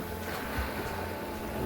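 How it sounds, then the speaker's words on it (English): Sea waves surging against the Irish coast, a steady broad wash of surf and wind that stays fairly even throughout, with one slightly stronger swell near the middle. "Another wave coming."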